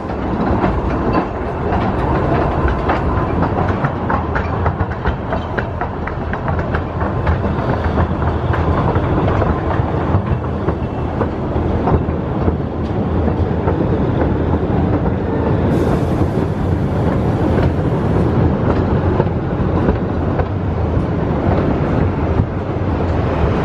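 A roller coaster train at Blackpool Pleasure Beach rumbles and clatters loudly along its track, a continuous rolling roar with rhythmic clicking that holds steady throughout, with a brief rise in hiss midway and wind buffeting the microphone.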